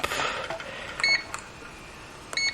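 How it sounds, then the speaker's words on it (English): A coffee machine gives a couple of short electronic power-on beeps over faint background noise, a brief tone followed by another a moment later. "the machine makes a little beep"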